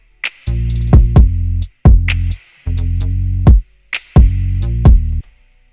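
Crisp hi-hat ticks from an R&B drum kit bounce in a groovy pattern over a heavy, looping bass in the beat, clear and upfront.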